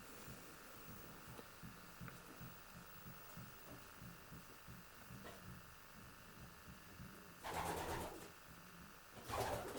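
Stock racing pigeons coo inside the stock section of a loft, with soft, rhythmic, overlapping throaty coos running steadily throughout. Two short rustling bursts of wing flapping or movement come near the end.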